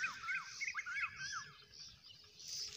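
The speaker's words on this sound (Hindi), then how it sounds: "कोयले की खूबसूरत आवाज़ें" A koel calls on a cloudy village morning, giving repeated rising whistled notes in a quick series over faint rural background noise, with no talking.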